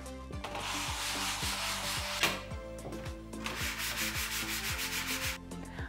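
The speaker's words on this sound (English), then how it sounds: "Start by sanding on the pizza trays." Metal pizza trays from a dollar store are sanded by hand, giving a steady rhythmic scratchy rubbing in repeated strokes about twice per second, close up with no talk.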